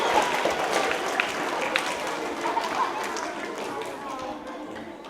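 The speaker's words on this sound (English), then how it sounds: "So give yourselves a round of applause" Middle school students applaud at a New Orleans jazz performance, a dense, sustained burst of group clapping that fills the room, with some crowd chatter, slowly tapering toward the end.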